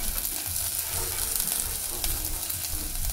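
Onion, garlic and ginger sautéing together in a pan, a continuous even sizzle with faint crackles and occasional stirring, close and steady.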